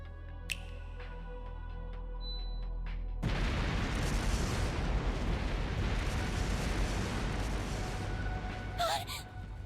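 Explosive artifacts go off in the video game Trails through Daybreak, a sudden loud blast swelling into a sustained roaring rumble of detonations that carries on for several seconds after a quieter lead-in.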